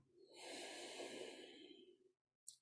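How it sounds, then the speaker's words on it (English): Long, forceful nasal breath during yoga practice, a steady hissing exhale lasting about two seconds, close and clear, then a pause and a short sharp sniff at the end; no talking. "Keep breathing samanically if you can"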